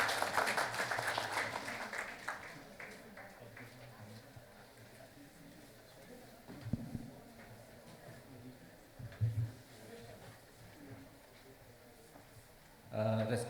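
Applause at a national convention of insolvency professionals and registered valuers, for an executive director invited to give opening remarks. It is moderate at first and fades into faint room noise, with bumps and a short burst of talk near the end.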